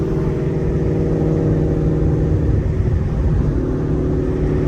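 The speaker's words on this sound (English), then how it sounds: "Bro, I'm in sport mode and I just lit the tires up" A full-bolt-on 5.0 Gen 2 car with an extremely loud exhaust system revs hard in sport mode while spinning its tires, giving a deep, continuous, close engine roar and rumble whose pitch shifts near the end.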